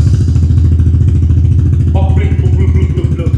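A Yamaha PG1 motorcycle engine runs loud and close, holding a steady rumbling idle with a slight rise in pitch partway through.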